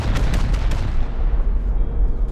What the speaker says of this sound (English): Right here in the middle, if I fire 8 rockets